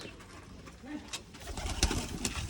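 Pigeons cooing in a rooftop loft while water is being filled, with soft low coos and a few sharper calls and rustles, faint under general background noise, louder toward the end.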